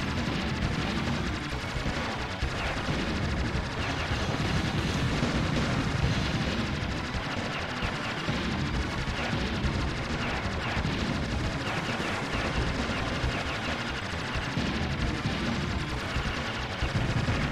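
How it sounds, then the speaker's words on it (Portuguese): Dense, continuous rapid gunfire from enemy aircraft in the SNES shooter Aero Fighters, a loud unbroken barrage with explosive bursts layered throughout, no voices. "Tá vindo uma chuva de tiro pra cima de mim, cara."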